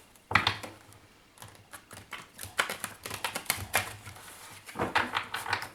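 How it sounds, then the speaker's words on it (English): Tarot cards are shuffled close by in a rapid series of papery riffles and soft slaps. The bursts are irregular and build toward the end. "One more shuffle."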